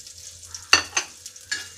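Cashew nuts and raisins fry in ghee for Kerala banana payasam, a brief close sizzle punctuated by a few sharp spitting pops as ingredients hit the pan.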